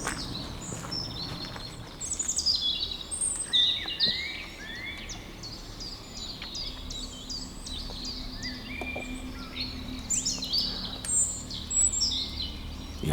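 Small birds chirping and tweeting around an abandoned boiler house, scattered high calls at moderate distance over a low steady background hum.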